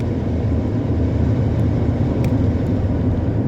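Luragung Abdi intercity bus with a snoring exhaust cruising on the Cipali toll road, a loud, dense, continuous low rumble and roar throughout with no talking.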